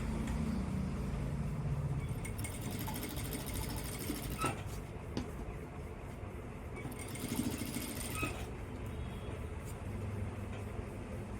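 Sewing machine stitching the lining of a work blouse, a steady close mechanical whir running through the whole stretch with a few brief sharper clicks, no talk over it.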